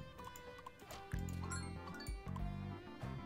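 Water pouring in the Parker & Lane: Twisted Minds puzzle game, a liquid fill sound in two short bursts with bubbly low gurgling, moderately loud over faint game ambience.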